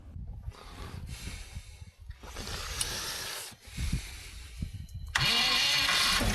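An old abandoned bus engine cranks in several bursts separated by brief pauses, each attempt grinding and sputtering without catching, ending with a louder, harsher stretch of cranking.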